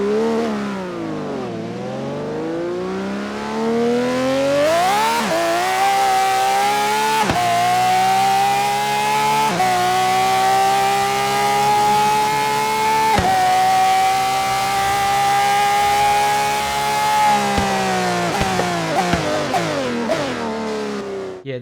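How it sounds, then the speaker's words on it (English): A loud, screaming Pagani Zonda R engine in Forza Horizon 3 revs up through gears, holding a high sustained wail with sharp pitch drops at each shift, no voices. "here is what it sounds like in Forza Horizon 3"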